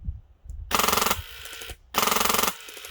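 An airsoft LMG fired outdoors at a tree about 50 to 60 feet away, two rapid close bursts of mechanical rattling shots, each roughly half a second long, separated by a short pause.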